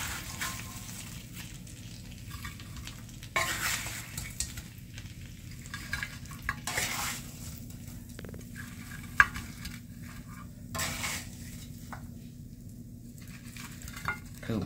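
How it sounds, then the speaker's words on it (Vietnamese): Garlic butter pork ribs being scooped from a pan onto a plate, with steady frying sizzle and scraping stirs, occasional utensil knocks against the pan, close and moderately loud with no talking. "Bây giờ mình sẽ xúc ra đĩa."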